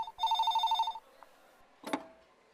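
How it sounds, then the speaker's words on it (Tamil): A telephone gives one burst of rapid electronic trilling ringing, loud and close in a quiet room. A short clatter follows, like the handset being picked up. "ஃபோன் அடிக்குது பாருங்க"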